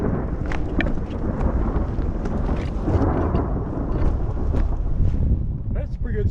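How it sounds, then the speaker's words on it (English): Heavy storm noise in Palo Duro Canyon, low rumbling thunder with steady rain, sleet and wind, fills the scene continuously without letting up. "That's a pretty good storm."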